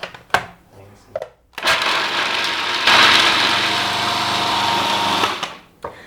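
A food processor whirs loudly in a steady motorized blend for several seconds while making almond milk, after brief clicks and short bursts of talk, then cuts off.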